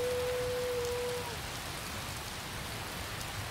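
Steady rain falls in Skyrim, a dense even hiss spread across the whole clip, with a brief tone fading in the first second and no talk over it.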